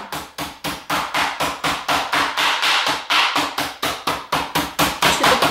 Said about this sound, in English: You want to take something like a hammer and just mash it down.